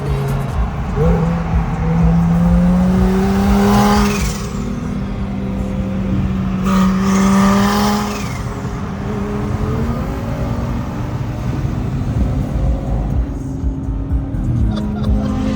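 Twin turbo Lamborghini cruising on a long road drive, a steady droning engine with gear changes shifting its pitch up and down, under constant tire and road roar, recorded from inside the car.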